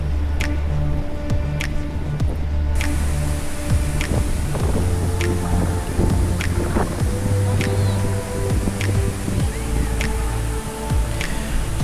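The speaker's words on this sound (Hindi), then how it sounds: "समुद्र किनारे सबसे खास बात ये है कि हवा कभी नहीं रुकती वहाँ पे" Wind blows hard and without a break along a seashore in the Andaman Islands, a steady roar with gusty buffeting against the microphone and sharp ticking clicks scattered through it.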